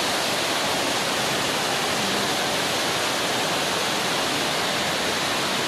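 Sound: small indoor waterfall in humid plant house

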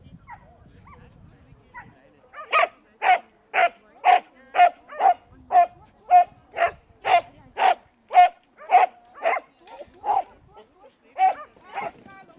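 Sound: dogs barking at an agility competition

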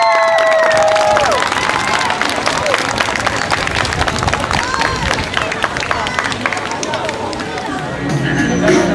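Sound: audience applause and cheering for school band

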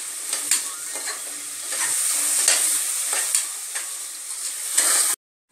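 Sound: onions frying in ghee

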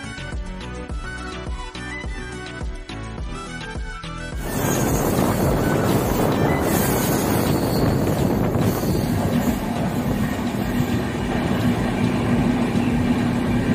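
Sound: Jan Shatabdi Express train running through hills

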